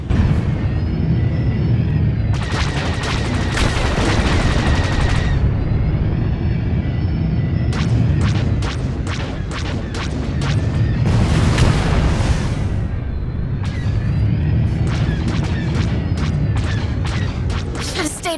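Video game battle noise with repeated booming explosions and bursts of gunfire, loud and dense throughout, crashing blasts arriving in clusters over a constant rumble.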